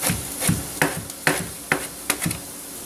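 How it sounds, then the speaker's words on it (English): Knife chopping vegetables on a board in a home kitchen, about eight crisp irregular knocks over a few seconds, close and clear with no talking. "and now we chop that"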